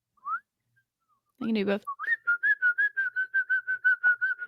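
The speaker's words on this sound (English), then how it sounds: "now I actually only can whistle inhaling" A person whistling on the inhale, a brief high note then a long run of short, evenly pulsed breathy tones at a steady pitch, close to the microphone, after a short spoken phrase.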